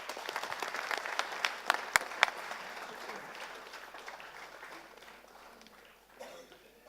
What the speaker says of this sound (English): Please, let's have a big round of applause.